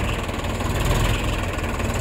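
A Mahindra tractor engine, only about 11 hours old, idles steadily up close, a dense, constant low rumble with a knocking throb and no voices over it.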